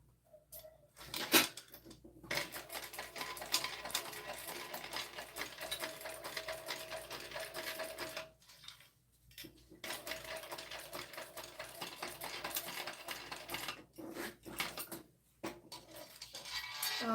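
A sewing machine stitches down the gusset of a bag in steady, close runs of rapid needle chatter. It breaks off for a couple of short pauses and carries on for about seventeen seconds, with no talking.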